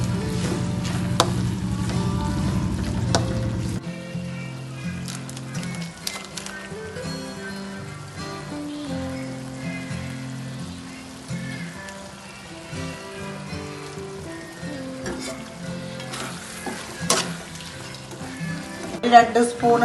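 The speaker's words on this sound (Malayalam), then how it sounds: "ഇഞ്ചി പേസ്റ്റെല്ലാം പച്ചമുളക് എല്ലാം ഞാൻ ഇട്ട് നന്നായി ഒന്ന് ഇത് ഇളക്കുന്നുണ്ട്" Ginger paste and green chillies being stirred as they fry in a pan, a broad sizzle most noticeable at the start before background music with a steady melody takes over and masks it.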